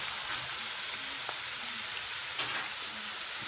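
Potatoes fry in a pan of hot oil for a Catalan omelette, a steady close sizzle and crackle with faint stirring clicks, continuous and free of speech.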